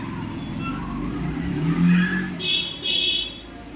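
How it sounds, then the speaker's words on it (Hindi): A new motorbike pulls away on a ride, its engine revving up and droning steadily at moderate distance, with a brighter rising whine late in the run and faint background voices. "अब्दुल्ला जा रहे हैं मामा के साथ राइड पर, न्यू बाइक राइड।"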